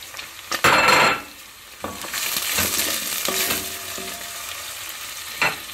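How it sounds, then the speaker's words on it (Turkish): Green peppers sautéing with onions in a pan for a Turkish green bean dish, a bright sizzle swelling as the vegetables are stirred, with a spoon scraping and knocking against the pan. "İki dakika biberlerimi pişireceğim."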